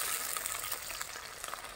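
Sliced onions frying in a pan make a steady, hissing sizzle with small crackles throughout, fairly faint and with no voices.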